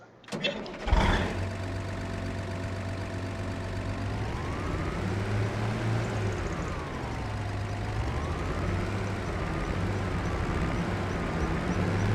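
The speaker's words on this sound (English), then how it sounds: "jump into this here tractor." A large tractor in Farming Simulator 25 cranks and starts with a sharp burst, then settles into a loud, steady diesel idle with a low drone. A warbling tone rises and falls over the engine.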